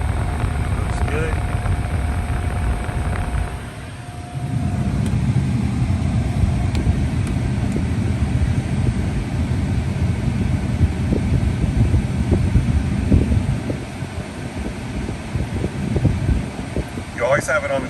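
Tesla Model 3 air conditioning compressor pump running on the coldest setting during recharging, a steady loud mechanical whir and hum that holds throughout, briefly dipping then resuming, with no voices over it.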